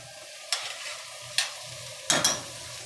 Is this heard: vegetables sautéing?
yes